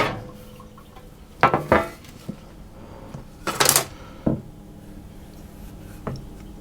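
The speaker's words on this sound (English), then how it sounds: "we need to transfer those onto the baking sheets" Rolled Marmite breakfast biscuit dough is moved onto baking sheets, with a few sharp clinks and clatters of metal trays and utensils scattered between quiet pauses, close and fairly loud.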